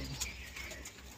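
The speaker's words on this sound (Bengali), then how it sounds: "এই 5টা পায়রা টোটাল বেরিয়ে গেল।" Racing pigeons being released at a tournament give soft, faint cooing over a quiet outdoor background.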